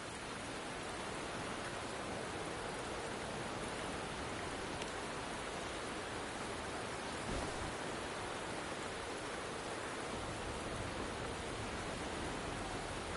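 Heavy rain pours in the video game Wuthering Waves, a dense, even, loud hiss of falling water that holds steady throughout without any voices.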